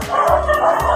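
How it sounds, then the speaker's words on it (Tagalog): Dogs bark in short, sharp bursts close by in a Philippine home neighborhood, about three quick yips within a second, loud and without other sounds. "Ang daming aso dito sa amin."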